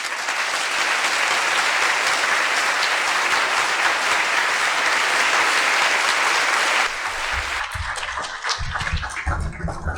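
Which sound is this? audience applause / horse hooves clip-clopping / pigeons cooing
audience applause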